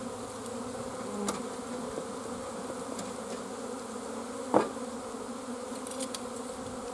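Honey bees buzzing around an open hive during a nuc install, a dense steady hum with a few brief closer passes and one sharp knock from frames being handled, no talking.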